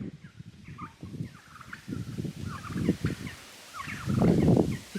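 A flock of farmyard turkeys gobble repeatedly in overlapping bursts, a busy chorus of rattling calls that swells louder toward the end, with no one speaking.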